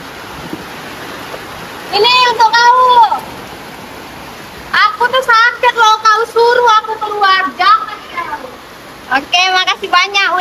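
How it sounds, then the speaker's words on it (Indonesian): Steady rain hisses throughout as a constant wash of noise, while voices talk over it in bursts. "Hujan loh."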